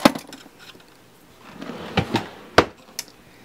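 A wooden drawer in a basement craft room being opened, a sharp knock at the start, then a soft sliding rumble followed by several close wooden clacks and thuds as it moves and settles.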